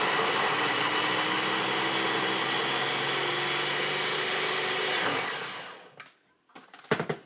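Ninja blender grinding broccoli, a loud continuous whirring motor roar close by for about five seconds before it winds down and stops, followed by a few brief clunks.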